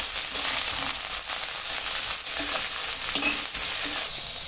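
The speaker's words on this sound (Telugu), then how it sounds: "పచ్చిమిర్చి ముక్కలు, కరివేపాకు వేసుకోండి. మంచిగా మిక్స్ చేసుకోండి." Chopped onions, green chillies and curry leaves fry in hot oil for a cauliflower fry, a steady loud sizzle broken by repeated scraping stirs of a spoon against the pan, close up with no talking.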